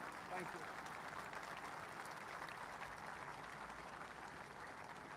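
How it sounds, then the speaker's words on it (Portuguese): Dense, continuous applause from a large audience at a speech celebrating the US Army's 250th anniversary fills the whole stretch, a steady wash of clapping heard at a distance, with voices beneath it. "Ele se ergue para receber os aplausos."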